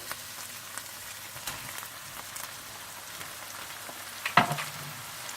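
Chopped tomatoes sizzling in a pan with fried ginger and garlic for ginger chicken, a steady faint crackle with one sharp clink near the end.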